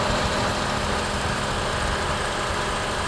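A Honda CR-V with a K24 engine idles with its A/C compressor stuck on, giving a steady, close engine drone and vibration with a constant hiss over it and no talk.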